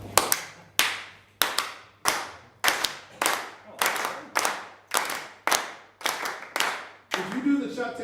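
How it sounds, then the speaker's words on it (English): Rhythmic hand clapping in the Chuck Taylor style at a wrestling show: about a dozen sharp, loud claps at a steady even pace, each ringing out briefly, with a voice breaking in at the end. "If you do the Chuck Taylor clap at an American show, I promise you, it's gonna sound like dishes breaking."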